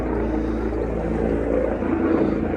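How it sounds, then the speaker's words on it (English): A helicopter passes overhead, a steady low rotor and engine roar that swells slightly and stays loud throughout, with no voices. "Oh, bloody helicopter."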